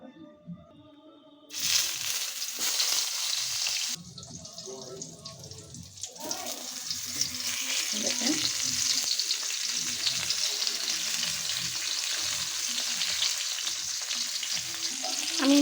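Slices of tal eggplant fry in oil with lightly spiced seasoning, a loud steady sizzle that bursts in suddenly and hisses continuously, with some stirring and clatter.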